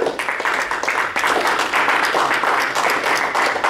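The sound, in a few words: congregation applauding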